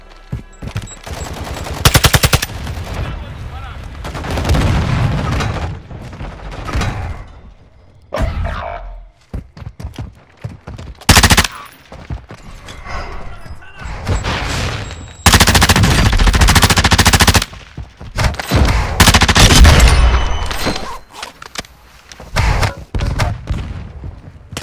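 Warzone 2.0 gunfire thunders in long, loud bursts of automatic fire, with booms and thuds, broken by brief near-silent gaps.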